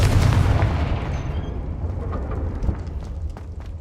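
The Confringo blasting spell exploding in Hogwarts Legacy, one loud close burst that rumbles at the start and then fades into a long, slowly dying roar with faint crackles.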